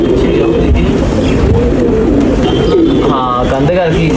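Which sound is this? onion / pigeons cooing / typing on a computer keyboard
pigeons cooing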